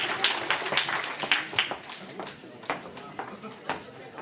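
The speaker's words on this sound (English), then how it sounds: "Round of applause to our People of Bingo winners." An audience claps for bingo winners at a local groups meeting, a scattered round of applause that is moderately loud at first and then thins out.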